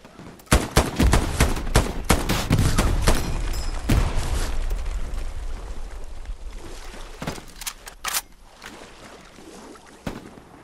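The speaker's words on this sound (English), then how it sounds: "Gonna throw a frag straight ahead in the trail cart." Gunfire and a frag grenade blast in the World War II shooter Hell Let Loose, a dense run of loud sharp shots and bursts with one heavier boom, thinning into scattered reports near and far.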